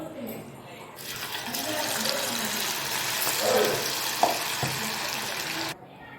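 Cabbage pakoda sizzles in hot oil, a steady loud frying hiss that lasts several seconds before cutting off, with someone speaking over it.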